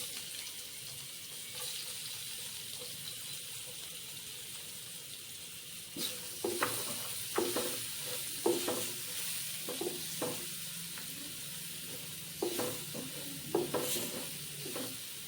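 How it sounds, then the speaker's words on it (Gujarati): Onion sizzles steadily in a hot pan while a spoon stirs it, the frying hiss continuous and close, with clusters of sharp scraping and clacking stir strokes in the second half and no talking. "ત્યારબાદ આપણે ડુંગળી એડ કરશું"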